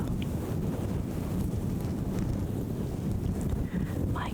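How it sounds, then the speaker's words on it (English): A microphone's fuzzy cover being scratched close up for ASMR, a continuous rough, windy rustle that stays loud and even throughout, with no talking. "Mic scratching is one of my favorite triggers. It kind of sounds like the wind."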